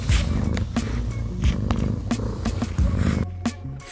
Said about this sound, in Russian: Один мурчит, как красиво, а другой храпит.